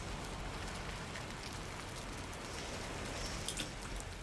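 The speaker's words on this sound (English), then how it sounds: "Thank goodness, finally, the rain stopped." Steady rain falls in the Valheim video game, an even, dense hiss of drops that holds at moderate loudness throughout, with no talking.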